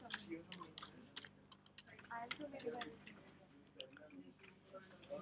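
Keys on a computer keyboard tap softly in quick irregular bursts, faint and close, with quiet speech murmuring alongside.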